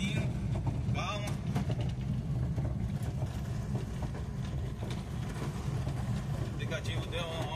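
A car creeping slowly along a narrow stretch of road near the Linha Amarela entrance in Rio, a steady low engine and road rumble running throughout while a person talks over it.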